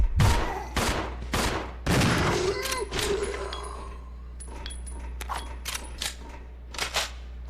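Gunfire in Resident Evil 0 comes as a series of sharp, loud shots, several spaced bursts and then quicker, lighter reports, with impact and clatter effects in between.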